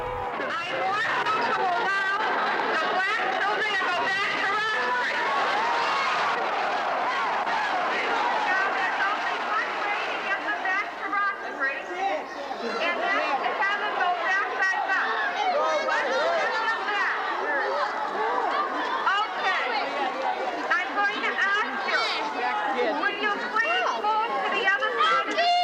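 A large crowd of protesters outside a South Boston school, dense overlapping shouting and chatter that stays loud and continuous throughout, with voices layered close and far.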